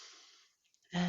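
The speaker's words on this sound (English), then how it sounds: "Take a big breath in" A slow, deep inhalation is drawn in softly through the airway and fades into a brief hush, then a voice begins right after.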